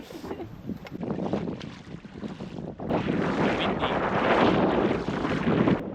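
Strong wind buffets the microphone beside a dirty swamp with a steady roar, gusting louder in the second half, with faint water sounds beneath.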